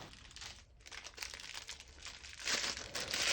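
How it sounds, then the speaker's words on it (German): Packaging for an SKF wheel bearing is unwrapped, producing faint, close crinkling and rustling with a short pause before louder crumpling toward the end. "Jetzt noch kurz den Inhalt auspacken."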